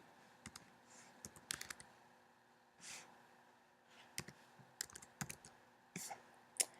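Keys clatter in short irregular bursts on a computer keyboard as an email address is entered, close and fairly quiet, with soft breaths between the clusters of clicks.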